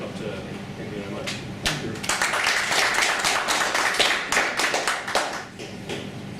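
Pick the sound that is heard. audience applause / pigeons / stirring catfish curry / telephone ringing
audience applause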